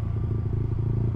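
Motorcycle fitted with a 3DNT aftermarket exhaust, heard as a close, loud, steady low engine rumble with a rapid pulsing beat, running alone without talk.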